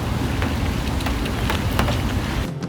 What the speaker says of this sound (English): It's raining, so filming B-roll is going to be a bit lacking today